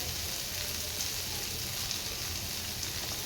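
Tomatoes sautéing in a hot pan for a Marathi prawn and fish curry meal, giving a steady, even sizzle that holds at one level throughout, with no talking.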